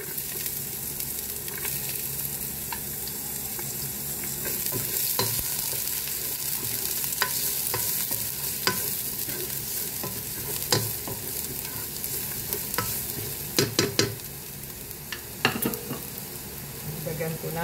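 Garlic sautéing in oil in a pan, with a continuous loud sizzle and occasional sharp scraping and tapping of a spatula, most frequent toward the end.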